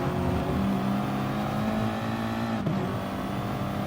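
Race cars in a racing video game at Autopolis, engines droning steadily close by with a sustained pitched whine and a brief dip near the end, no talking.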